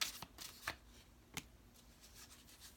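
Divine feminine oracle cards are shuffled in quick, soft riffling bursts, a few separate crisp flutters close by and quiet, with near silence between them.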